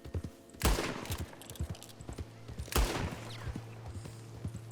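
Two loud gunshots in the video game Red Dead Redemption 2 ring out about two seconds apart, with softer thuds and game ambience between them.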